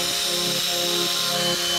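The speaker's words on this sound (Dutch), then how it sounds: "boor dan nu de rest van de gaten voor op het raam" A power drill whirs steadily while boring holes into a window frame for a security strip, its motor tone rising and dipping in a few short repeated pushes, close and loud with no talking.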